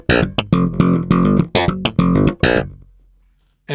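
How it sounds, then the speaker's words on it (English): A bright, punchy phrase on an Alembic bass guitar played through the bridge pickup alone with its filter open, a run of quick plucked notes that ends in a fading tail, close and solo. "so that the bridge pickup alone will sound like this."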